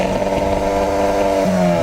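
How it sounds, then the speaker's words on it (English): A 2022 Hyundai Elantra N sports car's engine drones loud and close with a steady, harmonic-rich tone, then the pitch drops sharply near the end as a gear change hits, with a gruff exhaust note throughout. "The crackles on downshifts, sharp and aggressive upshifts"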